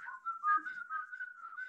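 A child whistles a steady, wavering tune, fairly close and alone, with brief rises and pitch slides over a couple of seconds.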